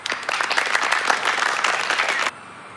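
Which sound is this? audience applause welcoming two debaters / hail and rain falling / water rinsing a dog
audience applause welcoming two debaters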